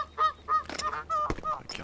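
Geese in an indie video game honk repeatedly in short, loud, nasal bursts, several calls overlapping closely in quick succession.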